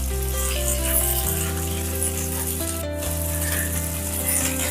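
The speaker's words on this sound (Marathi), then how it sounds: "आता तेल गरम झालंय, मी इथे भेंडी टाकून घेते।" Okra frying in hot oil gives a steady, even sizzle that runs the whole time beneath sustained background music, with no talking.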